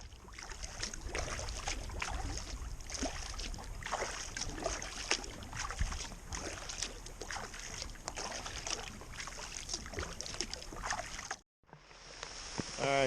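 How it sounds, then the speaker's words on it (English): A solo kayak paddles along a river, with steady rhythmic paddle strokes dipping and swishing through the water alongside close wind buffeting, followed by a brief cut and a short stretch of quieter water sound. "so I'm gonna paddle."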